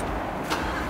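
A Lamborghini engine starts with a short, sharp burst over a steady mechanical background, heard close and fairly loud with no talk.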